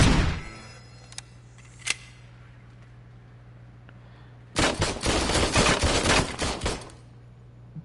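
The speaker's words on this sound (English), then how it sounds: "As Robocop, you obviously get the Auto 9 pistol" Auto 9 pistol gunfire from the RoboCop video game: a long, loud burst of rapid shots dominates the middle, with a couple of brief isolated pops earlier over a steady low game hum.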